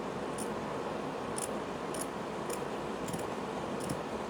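Scissors trim fabric in a series of six evenly spaced, crisp snips, close and fairly quiet over a steady background hiss.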